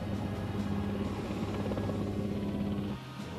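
A military helicopter fleet thunders close with loud, steady rotor chop and engine drone, easing off slightly near the end; no voices.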